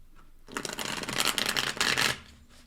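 A deck of tarot cards is riffled and shuffled in a quick, dense burst of flapping clicks lasting about a second and a half, close by.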